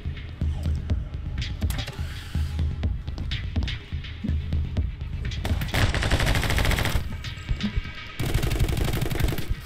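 Rapid gunfire from the My Friend Pedro video game on Xbox One, with dual pistols shooting at two enemies at once; dense, loud bursts of shots over a throbbing game soundtrack, intensifying in the second half.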